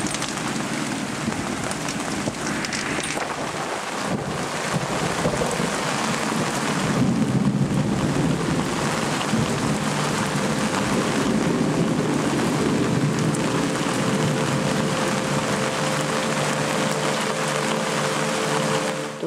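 Heavy rain pours steadily through a thunderstorm at night, with rolling thunder rumbling underneath the dense, continuous hiss of the downpour, loud and close throughout.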